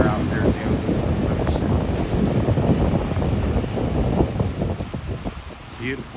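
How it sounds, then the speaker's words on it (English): Sea waves two to three feet high on a windy, sunny day off a fishing platform facing Negros Island in the Philippines, a steady loud wash of surf under heavy wind buffeting the microphone throughout. "The waves are about 2 or 3 feet high here."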